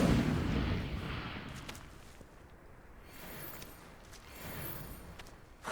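An Incendiary spell bursting in the video game Hogwarts Legacy, a loud fiery blast that opens the moment and then fades into a lower rumbling roar with a few faint crackles.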